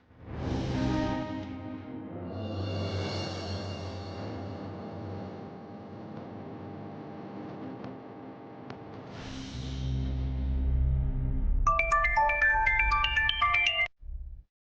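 A mobile phone ringtone plays while a call to a brother connects: a sustained melodic tune, then a brighter run of quick electronic notes near the end before it cuts off, with no talking.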